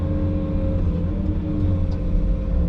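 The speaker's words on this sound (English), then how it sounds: "That's a city truck that's dumping down there right now." A city dump truck hauling leaf loads rumbles steadily at moderate distance, its low diesel engine drone continuous throughout, alone with no voices.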